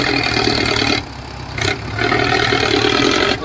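A Mahindra 575 tractor engine labouring while climbing under load in low gear, a loud, close, steady rumbling drone with a brief dip and surge midway, no talk over it.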